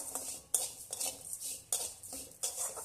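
Vermicelli being stirred in ghee in a pan for kheer, a metal spoon scraping and clinking against the pan in four or five regular strokes, close and fairly loud with no voices.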